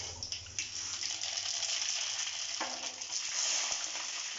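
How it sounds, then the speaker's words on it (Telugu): Mustard seeds sizzle and crackle in hot oil in a pan as the tempering for lemon rice begins, a steady close hiss with small pops throughout and no talking. "ఫస్ట్ ఆయిల్ హీట్ చేసుకొని దాంట్లోకి ఆవాలు వేసుకోవాలి."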